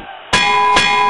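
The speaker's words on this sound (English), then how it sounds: "There's the bell." A ringside bell at a pro wrestling match clangs twice, bright and metallic. The first strike is sharp and the second follows about half a second later, and the ring sustains under the arena din.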